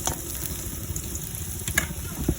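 Garlic browning in hot oil in a pan, a continuous close sizzle with small pops and a few stirring scrapes, no voices.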